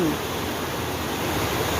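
Water released from the Nong Wai dam in Nam Phong, Khon Kaen, rushes in a loud, continuous roar, a dense broadband torrent with no pauses.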